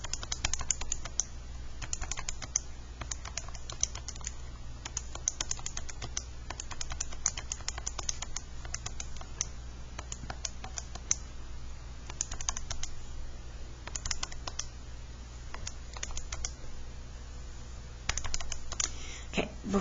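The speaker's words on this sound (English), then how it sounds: "And I'm going to start typing." Typing on a computer keyboard while entering statistics data, a steady stream of quick, close key clicks with irregular bursts and brief pauses over a low background hum.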